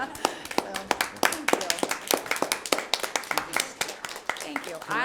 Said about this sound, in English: How about a standing applause?